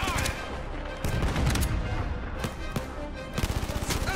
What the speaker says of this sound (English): the gun shoots kind of fast and slow-mo